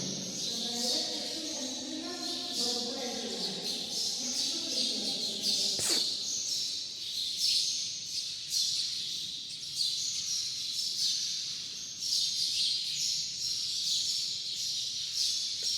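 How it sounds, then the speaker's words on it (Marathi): A steady chorus of high birdsong fills the air outdoors at Dhammabhoomi, Gugwad, Sangli district, Maharashtra, while someone talks for the first few seconds, then the calls continue alone. "जो आवाज जो येत आहे हा नैसर्गिक आवाज आहे इथं पक्षी वगैरे राहतात"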